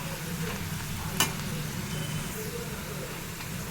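Garam masala and broad beans fry in a pan with a steady, close hiss of sizzling oil and one short clink partway through.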